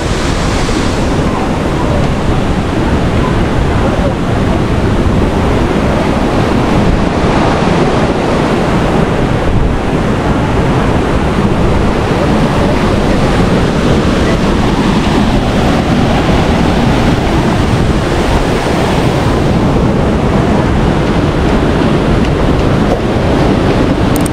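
The stream below Dunhida Waterfall, running strong and fast, makes a loud, steady roar of rushing water that stays unbroken and close for the whole stretch, with no voices.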